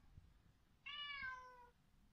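A domestic cat gives one drawn-out meow lasting under a second, quiet and clear against a near-silent room.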